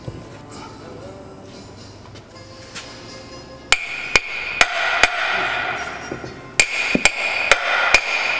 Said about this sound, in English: Now I'm hitting the Guibo, not the threads of the bolt.